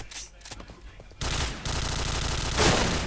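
Shots in the shooter game Point Blank on the Desert Camp map, a few faint early pops followed by loud, sustained rapid gunfire that swells toward the end.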